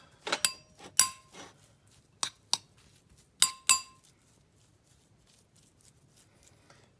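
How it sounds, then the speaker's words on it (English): A spoon works twice-baked potato filling in a glass bowl, giving sharp glassy clinks in short clusters of taps, close up and separated by quiet gaps. "you're going to want to use your spoon again to stir up what's in the bowl"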